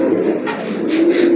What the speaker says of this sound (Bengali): অনেক সুন্দর কবুতর কিন্তু, কোয়ালিটি ফুল এক জোড়া কবুতর